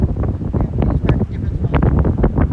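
Gusty wind buffets the microphone outdoors at the Tecumseh Memorial, a loud, uneven rumbling roar in bursts with no voices clearly standing out.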